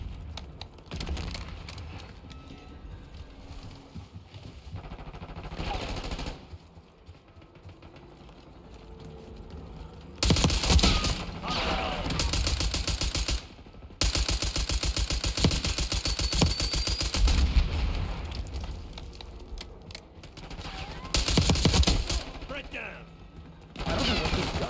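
Gunfire from a hostile long gun in a video game: dense bursts of rapid shots in long stretches, loud and rattling, with quieter gaps between volleys and some voice chat mixed in.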